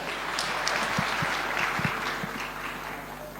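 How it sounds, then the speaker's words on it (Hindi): Loud, sustained applause from a crowd at a birthday celebration, many hands clapping densely and continuously at close range, with no talking over it. "जोरदार तालियां बजाएं"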